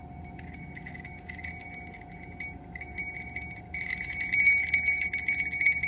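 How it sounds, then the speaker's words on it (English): A bell rings in quick, repeated strikes with a bright metallic tone, short bursts that pause and resume, turning louder and denser in the last couple of seconds, heard close and alone. "Yeah, that's a bell."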